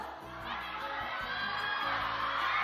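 An audience at a fan thank-you event for a Chinese drama cast breaks into a broad, continuous wash of cheering and crowd noise that holds steady for a couple of seconds, loud and close throughout.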